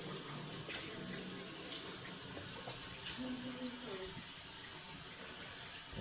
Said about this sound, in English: I'm gonna take it over here, I'm gonna rinse it out.